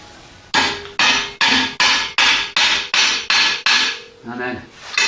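A hammer taps a Mk3 Ford Cortina half shaft into its splines, about a dozen evenly spaced sharp metallic blows, close and loud, with a slightly duller final tap.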